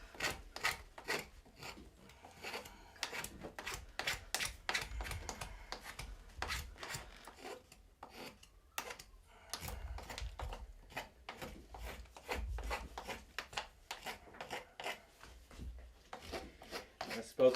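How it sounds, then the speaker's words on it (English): A spokeshave, mostly antique, shaves and shapes the bowl of a carved wooden spoon, giving a run of short rasping strokes in an uneven rhythm, close and fairly quiet. "And I'll use the spoke shave to shape the bowl."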